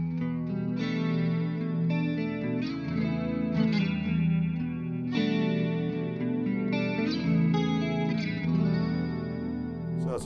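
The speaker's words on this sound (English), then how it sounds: "So it's a beautiful chorus pedal." Electric guitar played through an EWS Arion chorus pedal in vibe mode, chords ringing with a shimmering, wavering modulated tone, steady and prominent throughout with no talking.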